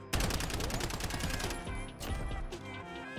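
Rapid automatic gunfire in Modern Warfare hardcore mode with a Striker shotgun, heard as a loud, fast stream of close shots for about a second and a half, then a few separate bursts afterward.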